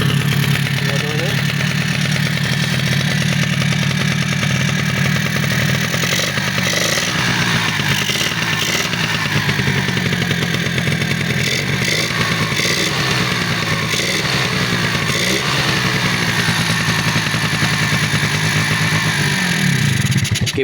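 A Suzuki V100 scooter engine runs steadily and loudly close by, a raspy two-stroke buzz that holds throughout with slight revving variations, while someone talks over it.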